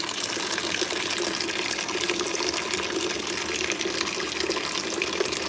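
Water from a Berkey gravity filter pours steadily into a jar, a constant close splashing, trickling stream that runs unbroken and alone.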